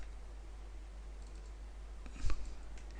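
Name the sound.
computer mouse clicking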